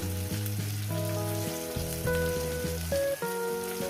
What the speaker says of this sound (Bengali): পেঁয়াজ কুচোটাকে প্রায় আমি দু মিনিট ভেজে নেব আর এর মধ্যে দিয়ে দেবো লবণ